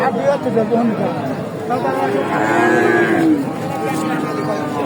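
Cattle moo loudly and close by, long low calls repeating over a busy murmur of people talking at the Talgachhi livestock market in Sirajganj, Bangladesh.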